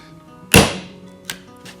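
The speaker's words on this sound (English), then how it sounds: "Bang, cut the hole out, away you go." A hollow punch is struck to cut a hole in gasket paper, landing as one sharp, close thunk, followed by a lighter second tap about a second later.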